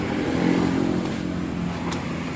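A motorcycle engine with a rough, high idle runs steadily close by, a continuous throbbing drone with slight swells and no talking over it.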